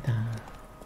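A horse gallops in the video game Witcher 3, heard as a brief hoof and mount sound with a low thud at the start that fades quickly, fairly faint and without speech.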